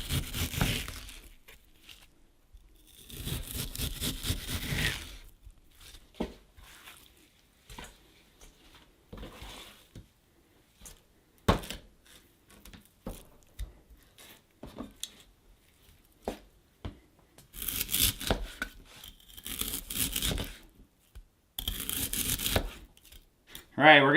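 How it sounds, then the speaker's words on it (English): A knife slices through partly frozen moose meat for jerky, producing close, scratchy tearing and crunching strokes in uneven bursts, with quiet pauses and occasional knocks on the cutting surface. "we're getting some beautiful slices of moose meat here."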